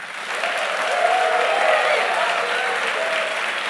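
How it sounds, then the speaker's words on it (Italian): A studio audience applauds steadily at the opening of an Italian talk show, a dense wash of clapping that holds for several seconds without letting up. "Applausi."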